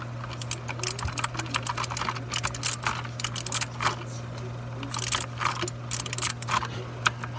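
A Redragon K552 mechanical keyboard clatters under fast, continuous typing, with dense, uneven bursts of crisp key clicks heard up close and alone, no talking.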